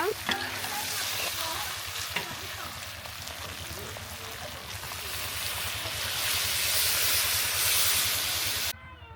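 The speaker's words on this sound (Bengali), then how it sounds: "মাংসটা ভাজা হয়ে গেছে এখন আমি এটা নামানোর জন্য আর একবার ঝোল দিয়ে দিব" Broiler chicken bhuna fries in a pan with gravy, giving a steady loud sizzle for the whole stretch, with occasional stirring scrapes and a rising, frothier hiss toward the end before it cuts off.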